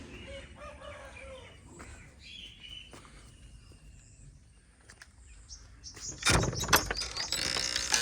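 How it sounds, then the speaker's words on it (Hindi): Rooster crowing in the distance in a rural Pakistani village in early morning, a faint call among other birds, followed by a louder burst of nearby chicken clucking and rustling toward the end. "मुर्गा हमारे दूर जाके अजाने दे रहे हैं"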